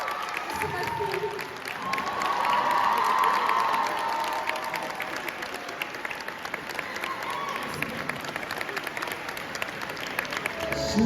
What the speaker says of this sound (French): Je vous demande des applaudissements, s'il vous plaît, pour ma chère Mélodie.